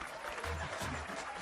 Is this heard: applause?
yes